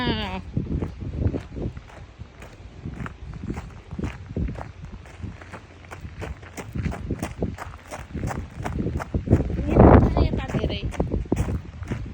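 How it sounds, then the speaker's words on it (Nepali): Goats bleat now and then amid shuffling steps and movement, with people talking in the background. "बाख्रा हेर्नु पर्छ बाख्रा"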